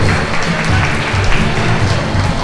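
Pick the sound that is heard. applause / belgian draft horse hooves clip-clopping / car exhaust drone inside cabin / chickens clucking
applause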